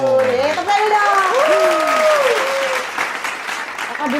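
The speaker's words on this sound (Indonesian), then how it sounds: "Tepuk tangan dong." Applause from a small audience at a talk-show style recording, steady clapping for about four seconds with bright whoops and rising, sliding vocal calls over it in the first half.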